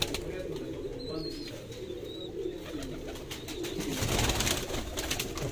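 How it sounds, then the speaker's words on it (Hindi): Pigeons coo softly in a loft of fancy Sialkoti 35-type birds, low throaty calls repeating through a faint background, with a brief flutter of wings near the end. "इतने खूबसूरत 35 वाले कबूतर कम देखने को मिलते हैं"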